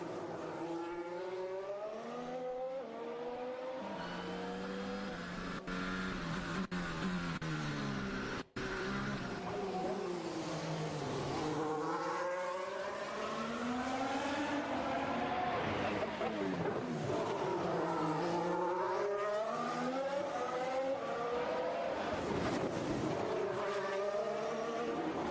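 Formula 1 cars race through a tight corner at the 2021 Azerbaijan Grand Prix practice session, engines repeatedly sweeping up and down in pitch as several cars pass, a continuous distant whine under faint commentary.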